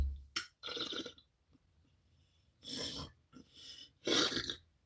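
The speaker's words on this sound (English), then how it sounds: "you can hear that kind of a burp." A person produces a few deliberate burps, short throaty bursts separated by pauses, close to the microphone and fairly quiet, with no talking between them.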